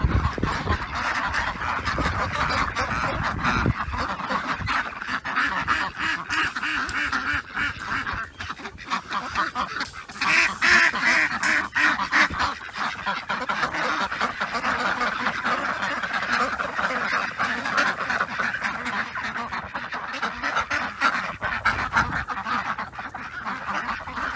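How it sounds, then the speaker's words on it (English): Farm ducks quack and honk in a busy, overlapping flock, a steady chorus of calls close by that swells in places and never lets up. "Here's our ducks."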